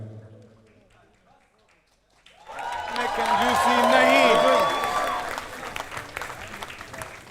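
Audience applause at a comedy show swells after a quiet start, building into loud sustained clapping and cheering that peaks and then gradually eases.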